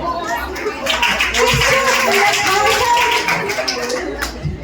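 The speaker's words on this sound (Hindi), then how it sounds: "जोरदार ताली।" An audience claps at a Hindi poetry recital, a burst of scattered claps that swells and stays lively, with voices heard in the room alongside.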